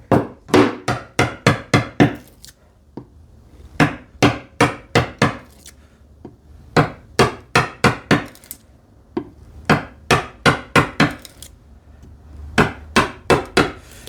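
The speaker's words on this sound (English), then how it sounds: "when we do this split cut and all those things with a chisel" Hand tool woodworking on a TV unit: a mallet drives a chisel through a split cut in wood, giving sharp, close knocks in quick bursts of three to six evenly spaced strikes separated by short pauses, with no talking.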